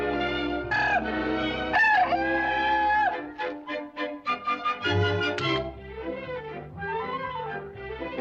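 A bad-tempered farm rooster crows loudly and close by, with drawn-out cock-a-doodle calls giving way to a run of choppy clucks and squawks, while music plays underneath.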